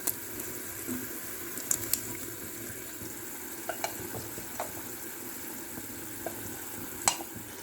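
Mutton frying in a pan for mutton sukka, a steady low sizzle with occasional small pops and spatters, moderately close and without talk.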